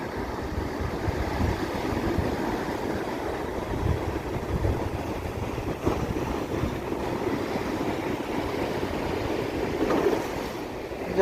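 Giant sea waves whipped up by a cyclone pound the shore at Point Pedro, a continuous loud roar of surf and wind buffeting with no pauses.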